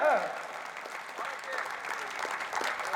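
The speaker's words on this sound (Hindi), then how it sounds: "एक बार जोरदार ताली बजाओ" Audience applause at an all-India kavi sammelan and mushaira poetry gathering, a broad steady wash of many hands clapping that carries on through the whole stretch without a break.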